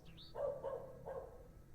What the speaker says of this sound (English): Background doggo barking noises?